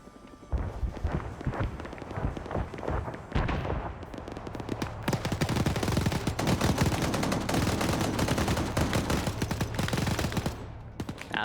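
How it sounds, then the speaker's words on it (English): Sustained gunfire in the Brothers in Arms video game fills the scene, with dense rapid bursts and scattered single shots ringing out down a street, loud and continuous for several seconds after a brief pause. "Now they're shooting down the street here"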